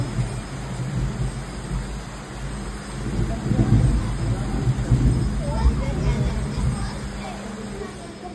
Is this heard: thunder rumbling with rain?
yes